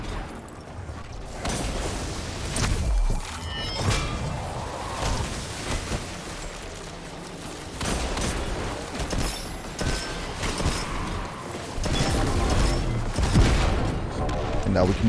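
Ariana's Vow hand cannon firing in Destiny 2, several sharp gunshots scattered among game mechanisms, creaks and crashes, with a dense, busy combat mix throughout.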